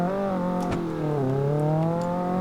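A steady engine drone holds at a constant pitch with a brief dip partway, a smooth sustained Ford Mustang engine sound in the video game BeamNG.drive, with no talking.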